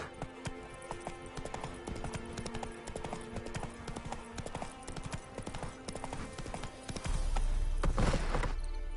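The horse Roach gallops in The Witcher 3, a rapid, steady clip-clop of hooves under a game music score, with a brief whoosh near the end.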